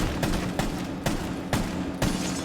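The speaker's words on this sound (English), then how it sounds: "just fire a couple of shots till you hear the glass break like this" Gunfire in Rainbow Six Siege breaks a window's glass, five evenly spaced sharp shots with crisp impacts over steady game background noise.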